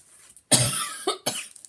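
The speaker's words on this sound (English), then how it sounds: "please excuse my coughing" A person coughs three times in a row, a strong close burst followed by two shorter ones, in a quiet room.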